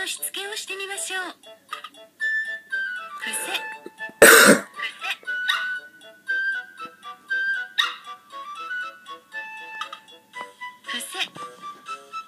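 A virtual puppy in the Nintendogs video game barks, yips and whimpers in short bursts over chiming game music and sound effects, with one loud close bark near the middle.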